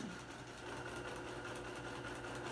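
Sewing machine running steadily at slow speed, stitching in the ditch around raw-edge appliqué shapes on a Thanksgiving placemat; a continuous, even motor hum sustained throughout at moderate level.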